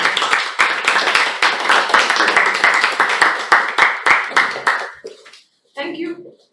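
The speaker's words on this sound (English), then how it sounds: "Give her a huge round of applause." Sustained crowd applause with dense, steady clapping for about five seconds at a Toastmasters club meeting, then fading out, followed by a brief burst of speech.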